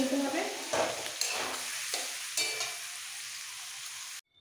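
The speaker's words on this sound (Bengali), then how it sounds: "মিক্স ভেজের এই সবজিগুলো ভাজা হয়ে গেছে," Fried mixed vegetables scooped out of a pan, a continuous sizzle broken by several scraping stirs and clatters, ending abruptly in near silence.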